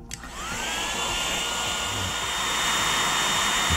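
A heat tool blows steadily on a Disney Cinderella sewing basket snow globe to loosen it, a close, continuous whooshing roar that rises slightly in pitch as it spins up and holds on alone.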